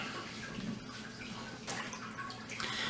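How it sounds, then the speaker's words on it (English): Water splashes and trickles over a whetstone while it is wetted before flattening, a steady close wash with brief louder pours. "I'm going to use some water to wet the stone"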